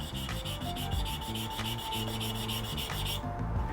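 The blade of a Japanese hand plane is rubbed on a stone with grit powder in steady, rhythmic back-and-forth strokes. The gritty scraping is continuous and close, with no talking.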